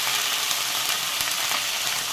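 Lingda fern greens sizzle steadily while being stirred in a hot pan in a Pahadi village kitchen in Uttarakhand, a loud, continuous frying hiss with faint stirring scrapes and no voices.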